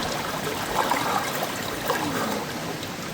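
River water flows steadily at a backcountry campsite, a continuous broadband rush with small gurgles and trickles rising briefly, fairly close and even in level throughout.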